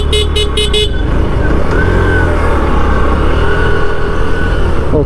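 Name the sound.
TVS Sport 110 motorcycle engine during test ride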